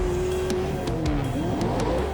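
Off-road race trucks in a Geico Off-Road Championship race at Wild Horse Pass, engines roaring near and loud with shifting revs and tire noise, no talk over it.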